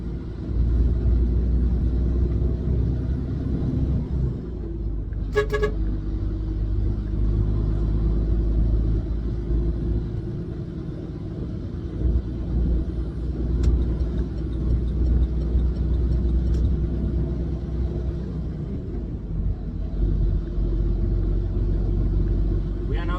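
Heavy dropside superlink truck with a 500 hp engine cruising along the A5 Harare Road in Zimbabwe, a continuous loud low rumble of engine and road noise heard from inside the cab, with a few brief clicks and rattles.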